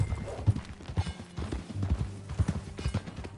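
Horse hooves clip-clop in an uneven walking rhythm, fairly close, with soft rustling and movement between the hoof strikes.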